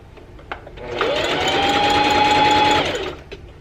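A sewing machine stitches a lettuce hem on stretchy fabric, a loud close whirring run of about two seconds starting and stopping abruptly, with a few light clicks before and after.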